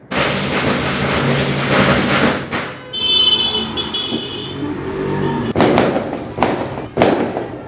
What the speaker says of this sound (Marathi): फटाक्यांचे आवाज बघा, भरपूर फटाक्यांचे आवाज अगदी यायला लागलेत